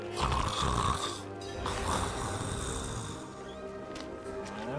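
An old man snoring in Diablo 4, deep rasping snores with a loud rattling inhale followed by slower, quieter breaths, close and alone.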